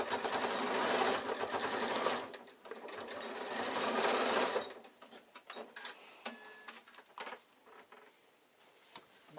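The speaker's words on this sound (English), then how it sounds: "Fold 1/4 of an inch in again, roll that up, and then sew across the top." A sewing machine stitches across the top of a quilted evening bag, whirring steadily for a few seconds and then slowing to quieter, scattered ticks and taps.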